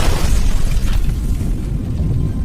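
A loud, close explosion from a booby trap blowing up a house during an assault in a sniper film, a dense rumbling blast that fills the whole moment with no voices.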